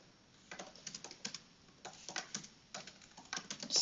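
Rapid keystrokes on a German-layout computer keyboard, close and crisp, coming in quick bursts with short pauses between them and no speech.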